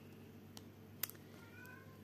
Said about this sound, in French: Vous avez dû entendre mon chat miauler.